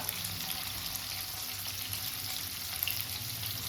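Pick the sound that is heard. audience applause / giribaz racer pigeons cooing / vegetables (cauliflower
vegetables (cauliflower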